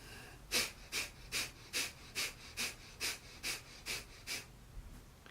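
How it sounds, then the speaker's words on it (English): Breath of fire, a yogic breathing exercise, done as about ten rapid, evenly spaced forceful nasal exhalations, each a close, airy puff with a steady rhythm and no talking. "that's where you begin the breath of fire"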